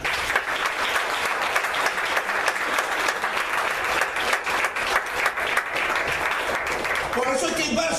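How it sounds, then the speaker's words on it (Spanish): A church congregation at a Christmas sermon gives a sustained, dense round of applause that runs steadily for several seconds and fades as a voice comes in at the end. "Pero un aplauso, Señor"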